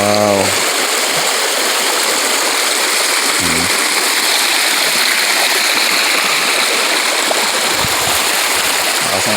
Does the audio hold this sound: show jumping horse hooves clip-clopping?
no